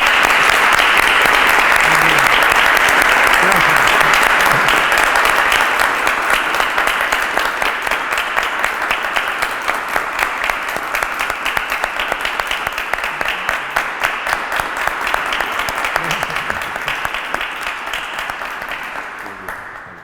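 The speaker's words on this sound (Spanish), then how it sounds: "Vamos a dar un fuerte aplauso" Loud, sustained applause from an audience at a conversation event on the Malvinas war, a dense roar of many hands clapping that gradually loosens into individual claps before fading out after about twenty seconds.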